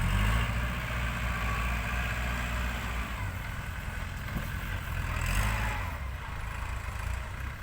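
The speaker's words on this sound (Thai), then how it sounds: "หน้างานก็จะมีรถไถคูเบต้าครับ" A Kubota tractor working on a soil-filling job idles with a steady, low rumbling drone that stays fairly even and moderately loud throughout, with no talk over it.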